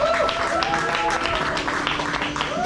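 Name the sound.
audience applause at seminar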